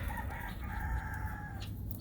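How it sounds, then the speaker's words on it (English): A Polish rooster crows in one drawn-out call on a farm, heard at moderate distance over steady low background noise. "that one here, Igor, my Polish rooster."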